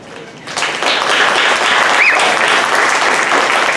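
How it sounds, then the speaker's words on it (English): A crowd breaks into loud, sustained applause that swells quickly and holds steady, with a short whistle rising above it. "So big, huge applause."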